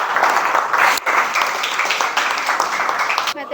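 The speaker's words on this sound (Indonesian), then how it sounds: "Tepuk tangan dong buat Hasya" Classroom applause for a student, a dense burst of clapping from many hands, close and loud, with a brief dip midway before carrying on to the end.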